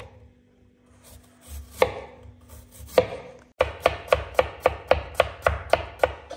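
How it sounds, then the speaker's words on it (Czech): A kitchen knife slices food into thin slices on a cutting board, starting with a few slow separate cuts and then a fast, steady run of about a dozen crisp, evenly spaced chops close by, no voices. "nakrájím na plátky, pokud možno slabý"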